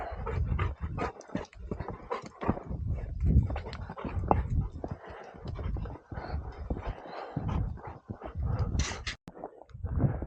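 A hunting dog on a California chukar hunt whimpers and pants up close in steady bursts through the whole stretch, with snuffling and movement noise and no talk.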